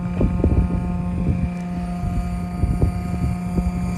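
A Yarbo robotic snow blower runs in a snowy Chicago parking lot, a loud steady mechanical drone with a constant low hum and repeated bursts of churning and thumping throughout.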